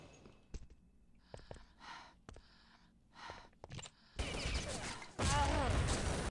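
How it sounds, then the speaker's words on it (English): Grenade blast in a team shooter video game match, Italy versus Turkey: scattered sharp clicks and shots lead into a loud, sustained roaring burst that swells even louder near the end. "Well, hey, I heard a nade."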